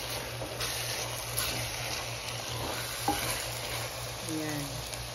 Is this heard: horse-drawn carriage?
no